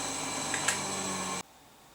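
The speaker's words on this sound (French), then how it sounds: "Maintenant, on va passer à la surjetteuse pour coudre les deux latérales." An overlock serger runs quickly while stitching the side seams of fabric, a steady, fairly quiet mechanical whir with a couple of small clicks before it stops abruptly.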